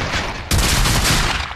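Video game gunfire erupts suddenly after a brief lull, a loud dense burst of rapid shots that fills the rest of the short moment, with no talking over it.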